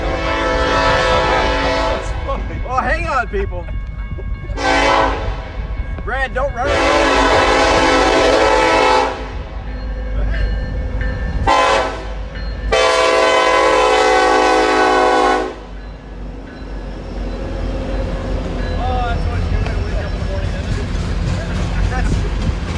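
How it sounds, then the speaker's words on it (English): A coal train rolls through downtown Parkville, its horn sounding in several long, loud blasts over the rumble and clatter of the rail cars, with people talking nearby. "This is one of our coal trains coming through now."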